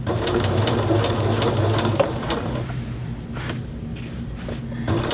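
A sewing machine stitches a welt seam across the yoke of a men's shirt through two layers, running with a steady mechanical whir, then easing into slower, short bursts with brief pauses.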